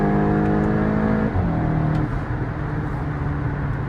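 An MK8 Volkswagen GTI accelerates hard through the gears, starting with wheelspin, a loud continuous engine roar that climbs in pitch, drops at an upshift, and builds again toward the top of third.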